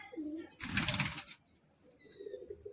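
Soft pigeon coos close by, a low throaty murmur with a brief burst of fluttering noise in between.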